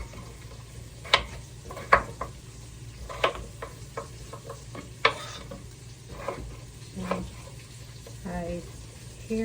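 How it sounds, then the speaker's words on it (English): Beef sizzles steadily as it browns in a hot pot while sharp clicks and taps of a utensil or knife sound intermittently nearby, fairly quiet overall. "I hear the beef over there going"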